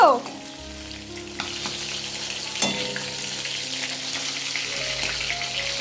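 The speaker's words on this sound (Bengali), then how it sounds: "আমার মাছ ভাজা হয়ে গেল" Fish sizzling and crackling in hot oil in a home kitchen, a steady fry with occasional louder spatters and scraping stirs, close by and uninterrupted.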